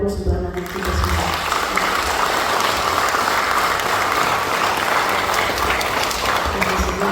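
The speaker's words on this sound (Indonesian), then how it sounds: "Mari kita beri aplaus untuk anak-anak kita semua." A crowd applauds students at a send-off ceremony for 68 pupils bound for a school in Tangerang, with dense, sustained clapping rising after a brief opening and holding steady to the end.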